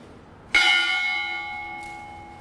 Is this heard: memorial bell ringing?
yes